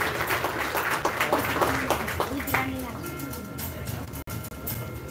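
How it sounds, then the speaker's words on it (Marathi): An audience at a school merit-felicitation ceremony bursts into brisk clapping that fades after a few seconds. An announcer's amplified voice carries over and after the applause. "एकदा या सर्व यशवंत गुणवंत विद्यार्थ्यांसाठी आपण जोरदार टाळ्या वाजवून त्यांचं अभिनंदन करूया."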